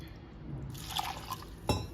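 Water poured into a bowl of jaggery for panagam makes a close, splashing trickle with glassy clinks, ending in a sharp knock.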